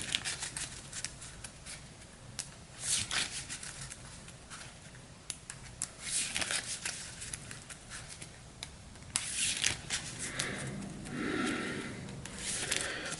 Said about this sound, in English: So I'll go ahead and shuffle these up.